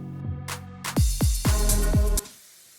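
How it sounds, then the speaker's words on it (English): Electronic noise downlifter in a house track remake, a burst of noise sweeping downward with repeated falling synth-bass swoops, loud and close before cutting off at the end. "Pretty simple downlifter here"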